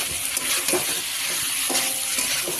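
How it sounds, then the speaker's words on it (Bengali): Cauliflower and potato pieces go into a pan of cooked-down spices, raising a loud, close sizzle mixed with stirring scrapes and light clinks of utensil against pan. "এই ফুলকপি আলুটা দিয়ে দিচ্ছি।"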